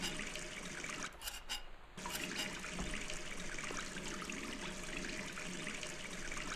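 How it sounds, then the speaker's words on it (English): A faucet runs steadily in the video game Gone Home, a constant close hiss of pouring water that briefly dips before flowing on evenly. "Turn on the faucet."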